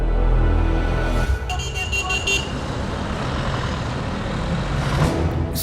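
A bus pulls up at a stop with a loud, steady engine rumble and brief high brake hiss or horn bursts near the start and end, continuous throughout.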